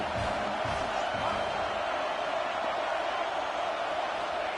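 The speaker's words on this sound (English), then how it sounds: "The Buckeye crowd alive on 3rd down." Stadium crowd in a college football video game at an Ohio State home game on third down: a dense, continuous roar of cheering and noise, steady and moderately loud throughout, with a faint voice underneath.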